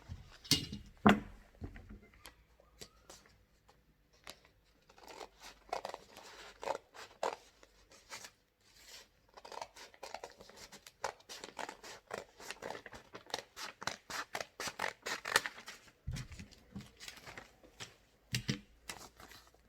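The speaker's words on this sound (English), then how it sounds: "Let's cut it out." Scissors cut out fabric for a homemade face mask, with soft repeated snips and rustling of cloth in irregular runs, close and fairly quiet.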